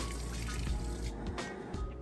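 A Maytag Bravos top-load washing machine fills with water, giving a steady close rushing and trickling flow with slight splashes throughout.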